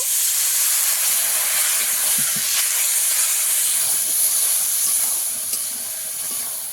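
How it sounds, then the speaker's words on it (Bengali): A little water poured into a hot pan holding potatoes and spices produces a loud, continuous hiss of steam that stays steady and eases off slightly toward the end, with no voices. "সামান্য জল দিয়ে দেব।"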